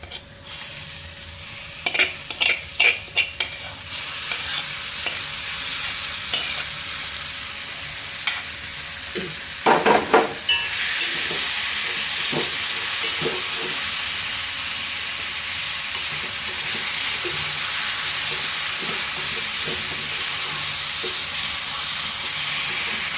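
Elephant foot yam pieces tossed into a hot pan with onion and chili powder, a sudden loud sizzle that settles into a steady, continuous frying hiss, with a few clattering stirs early on and no talking.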